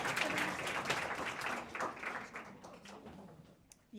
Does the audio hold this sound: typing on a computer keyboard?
no